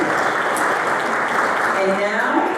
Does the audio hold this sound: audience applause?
yes